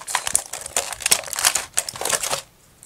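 Crinkly plastic rustling and snipping as scissors cut jewelry-kit packaging, a busy run of crackles and cuts up close that stops abruptly near the end.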